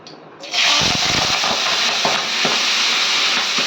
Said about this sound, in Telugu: బాగా గోలినాక ఆయిల్లో కొద్దిగా గోలించుకోవాలి